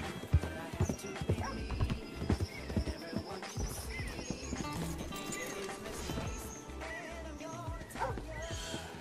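Steady clip-clop of horse hooves trotting along in the video game Red Dead Redemption 2, with occasional snorts and a whinny, plus low rumbling ambience and some faint talk mixed in.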